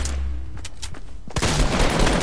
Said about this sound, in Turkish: İki pompalı da çarpmadı.